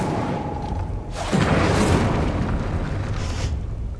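An Incendio fire spell bursts in the video game Hogwarts Legacy, a sudden whooshing boom of flame that roars for a couple of seconds over a low ambient hum, then trails off.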